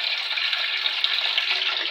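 Tap water runs steadily into a pot for boiling Indomie instant noodles, a continuous close hiss and splash with no talking.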